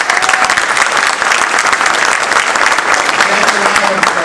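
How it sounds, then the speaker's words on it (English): Sustained applause from an audience at an AHEPA honors event recognizing members of Congress and community leaders, a dense, steady wash of many hands clapping throughout, loud and close. "why don't you stand up and take a round of applause?"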